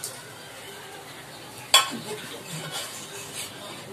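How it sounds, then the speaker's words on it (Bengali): Bhetki fish bones fry in oil in a pan with a quiet, steady sizzle, broken by one sharp metallic clatter of a utensil midway, followed by faint stirring scrapes. "প্রত্যেকটা মাছের কাঁটা আমি ভেজে নিচ্ছি, তো আগে মাছের কাঁটাগুলো ভেজে নিই"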